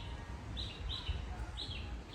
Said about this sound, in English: Hear the birds and the singing